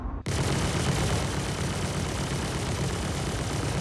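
Full burst of spaceship guns fired at a Gladius light fighter in Star Citizen, starting abruptly after a brief silence and continuing as a loud, unbroken, dense barrage to the end.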